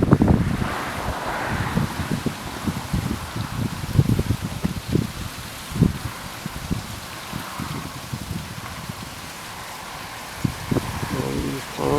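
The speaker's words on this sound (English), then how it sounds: "All these palm trees and everything. Waterfalls and fountains." Rushing water from waterfalls and fountains among palm trees at a house in Palmdale, California, making a steady broad wash with gusty wind buffeting the microphone.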